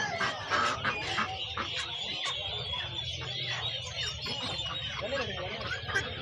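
Chickens and turkeys cluck and call continuously in a busy, noisy poultry yard, with voices talking over the birds.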